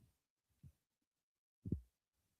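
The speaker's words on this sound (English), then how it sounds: "There's a heart beating." A heartbeat sound effect plays during a wrestling broadcast as the arena lights go out: deep, muffled low thumps, two softer beats and then a stronger double thump, heard alone and quiet.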